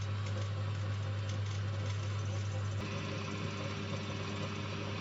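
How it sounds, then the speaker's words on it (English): A lathe milling a flat spot on the end of a pen back cap, a steady motor hum with constant machining whir, close and unbroken from start to finish. "just use the lathe to mill a flat spot on the end"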